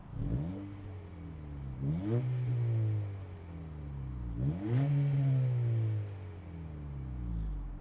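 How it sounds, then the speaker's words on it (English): Dual exhaust of a 2025 Honda Civic Si, revved twice from idle, each rev rising to a sustained raspy note before falling back to a low idle burble, close and loud. "I like the dual exhaust. It does have a decent note to it as well."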